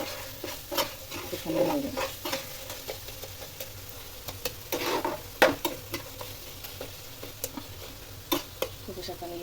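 Taro leaves (kochu shak) stir-fried in a pan, with a steady sizzle and repeated scraping stir strokes, and a brief voice speaking over it.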